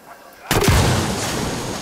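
Sudden loud explosion from a grenade or charge in the video game Ghost Recon Wildlands, a sharp burst at mid-clip followed by a long rumbling decay, preceded by quiet background.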